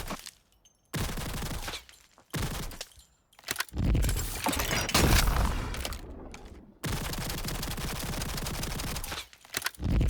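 A Lachmann gun fired in a video game sounds off in loud, sustained automatic bursts with brief gaps between them, crackling and dense, with no talk over it.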